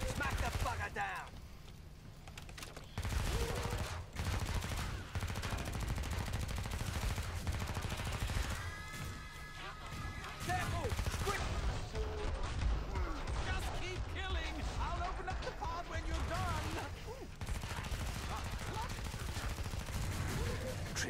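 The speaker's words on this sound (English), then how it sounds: "Classic machine gun" Machine gun fire in Killing Floor 2, sustained rapid bursts over dense game noise and music, with someone talking over it at times.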